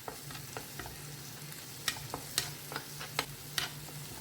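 Masala cooking in butter over a low flame, a soft steady sizzle with scattered light pops and spoon taps, quiet and close.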